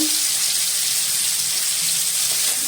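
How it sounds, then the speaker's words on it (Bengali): Tap water runs steadily into a bowl being rinsed at a kitchen sink during Bengali veg soya chilli cooking, a continuous soft hiss and splash throughout with no talking. "বাটিটা ধুয়ে আর একটু জল দিয়ে দিলাম"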